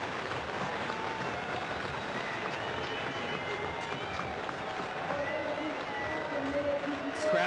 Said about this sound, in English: This crowd's starting to get anxious.